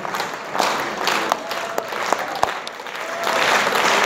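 An audience clapping at an anniversary concert, a fairly close, lively patter of many hands with a few sharp individual claps standing out, and a faint voice briefly audible underneath.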